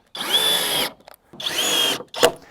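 Power drill driving structural GRK screws into wooden purlins of a large workshop truss install, two sustained high whining runs with pitch shifting under load, followed by a short sharp burst, close and loud.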